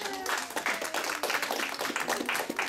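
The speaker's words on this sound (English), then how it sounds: "So let's give her a round of applause." Applause from a gathered spiritual congregation, many hands clapping in a steady, moderately close patter that runs throughout without a break.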